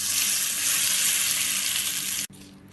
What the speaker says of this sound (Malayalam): കുറച്ച് കറിവേപ്പിലയും കൂടെ ചേർത്ത് കടുക് പൊട്ടിക്കാം